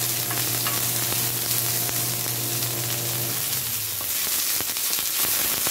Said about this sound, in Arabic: We'll fry the onion.